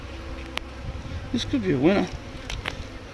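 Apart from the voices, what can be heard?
honey bees buzzing around a hive frame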